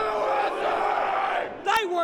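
Furious mob of pro-Trump protesters shouting and yelling as they storm the US Capitol, a dense, loud wall of crowd voices with one sharp cry rising above near the end.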